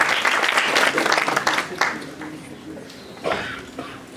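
An audience at a medical camp in a community centre hall breaks into applause, a dense burst of clapping that swells, thins out and tapers off over a few seconds.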